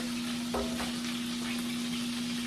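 Cheeseburger patties frying in a pan give a soft, steady sizzle, close and even throughout, with a low constant hum underneath and a brief clatter near the start.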